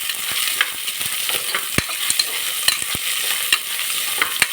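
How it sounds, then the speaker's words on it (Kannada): Soaked peas and field beans (batani and avarekalu) sizzle steadily with salt in a pan for masala sambar, with a constant hiss broken by scattered sharp clicks and taps of stirring throughout; no one speaks. "ಫ್ರೈ ಆಗ್ತಾ ಇದೆ."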